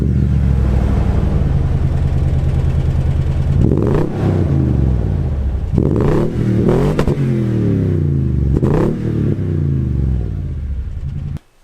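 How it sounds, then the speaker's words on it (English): 2020 Toyota Sequoia TRD Pro with a TRD catback exhaust, a deep steady engine drone that rises in several revving surges before cutting off abruptly. "you do have the option of that awesome sounding TRD catback exhaust"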